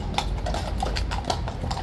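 Hooves of a large horse clip-clop in a steady, uneven walking rhythm, close by and fairly loud, with faint background noise and no talk.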